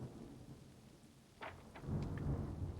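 Video-game rain pours steadily with low rumbling thunder swelling near the end, a few brief higher cracks cutting through the storm bed.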